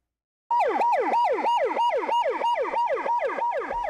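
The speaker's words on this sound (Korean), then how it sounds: "동네에서 쉴 새 없이 앰뷸런스 소리가 울려 퍼지고" An ambulance siren in a Daegu neighbourhood wails in a fast, repeating rising-and-falling sweep, loud and steady after a brief silence, with no talking.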